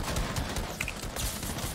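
Rapid gunfire in the Fortnite video game, a dense burst of repeated shots with rattling bursts, loud and close, no talk over it.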